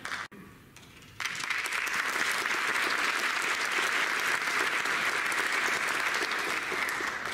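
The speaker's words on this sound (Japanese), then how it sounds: "皆様盛大な拍手でお出迎えください。" Audience applause welcoming a speaker to the stage at an international business forum in Japan, a dense, steady roar of clapping that swells in after a brief quiet start and holds loud and continuous.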